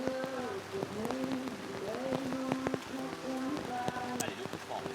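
Rain drums on the canopy of a commentary box at a football match, a constant close hiss of drops under a commentator's voice, with a musical or chant-like murmur in the background.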